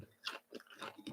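Close, crisp crunching of homemade roast garlic and red pepper potato chips sliced from organic red potato, four distinct bites and chews in steady rhythm, quiet and isolated.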